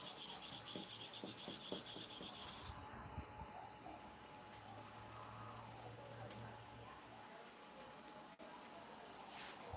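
Steel blade rubbed back and forth on a sharpening stone, a close, steady rasping scrape that continues throughout, with a few sharper strokes early on.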